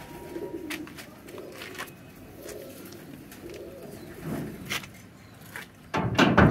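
Cheenay pigeons coo in soft, low, repeated phrases at close range, with scattered sharp clicks and a louder clatter near the end.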